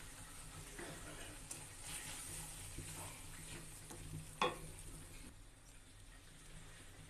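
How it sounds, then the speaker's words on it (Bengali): A hand whisk (ghutni) churns cooked lentil dal with turmeric in a pot, giving a steady wet stirring and sloshing texture with one sharper clink midway, fairly close and without speech. "আমি এখন এই ঘুটনিটা দিয়ে সুন্দর করে ঘুটে নেব ডালটা।"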